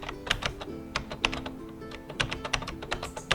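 Someone types a captcha on a computer keyboard, a rapid, irregular run of close, crisp key clicks with short pauses between bursts and no talking.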